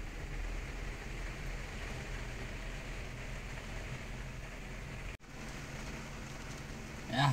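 Heavy rain pours steadily as a dense, continuous roar on surfaces, with one abrupt momentary cut and a louder burst at the end; no one speaks.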